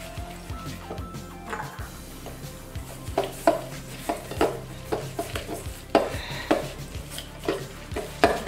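An egg and cayenne pepper being mixed in a bowl, heard as a string of rhythmic scraping and tapping strokes that grow stronger, close up, with no talk.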